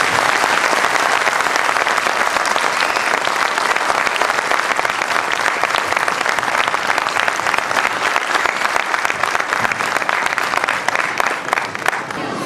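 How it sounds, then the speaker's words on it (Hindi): Loud, sustained audience applause at a school annual day function: dense clapping from a large crowd that keeps up evenly for over twelve seconds before easing slightly at the end. "उनके लिए बहुत देर तक तालियां बजाते हैं, जोर से तालियां बजाते हैं"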